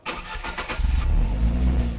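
A 2017 Fiat 124 Spider's 1.4-liter turbocharged four-cylinder fires up, a brief crank burst giving way to a loud, steady low idle rumble, close by with no talking.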